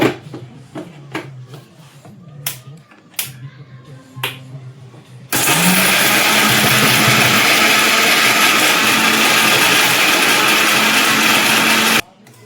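A mixer grinder grinds masala for a Sunday chicken curry: a few light clicks and handling taps, then a loud, steady motor whir that runs about seven seconds before cutting off abruptly.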